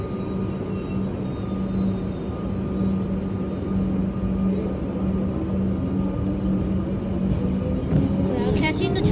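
Train at Docklands in Melbourne, Victoria, rolling with a steady low rumble and hum throughout, with wheel squeal and rattling rising near the end; faint chatter from people nearby mixes in.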